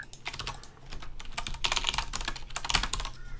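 Typing on a computer keyboard, close and fairly quiet, in uneven bursts of key clicks with a few louder clusters, played alone without talk.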